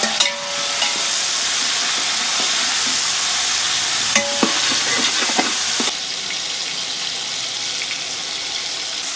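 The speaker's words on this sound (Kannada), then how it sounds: "ಈರುಳ್ಳಿ, ಹಸಿಮೆಣಸಿನ್ಕಾಯಿ, ಮತ್ತು ಶುಂಠಿ ಬೆಳ್ಳುಳ್ಳಿ ಪೇಸ್ಟು, ಟೊಮೊಟೊ ಇವೆಲ್ಲ ಹಾಕ್ಬಿಟ್ಟು ಹುರಿತಾ ಇದ್ದೀವಿ" Onion, green chilli, ginger garlic paste and tomato fry in a pan for homemade palav, giving a loud, steady close sizzle with occasional stirring clinks. The sizzle eases slightly partway through, with no talking.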